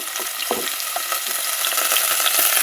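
Garlic and ginger paste fries in oil with a dense, loud crackling sizzle, with light stirring scrapes scattered through it and no speech.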